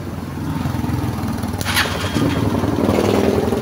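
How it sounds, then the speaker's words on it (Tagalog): Honda TMX motorcycle starter motor cranking steadily with its two wires jumped directly, a continuous close whirring drone with no engine catch. "So check muna natin kanyang starter kung gumagana ba. Direct ko lang itong dalawang wire."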